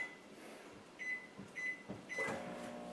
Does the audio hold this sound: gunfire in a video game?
no